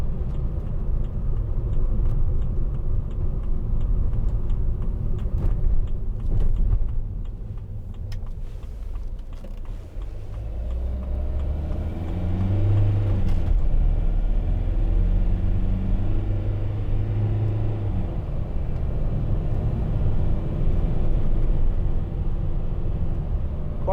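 A 2009 Mercedes-Benz Vito 115CDI 2.1 diesel Sport long panel van accelerating, a steady low engine rumble with a rising tone as revs climb midway, heard from inside the cabin.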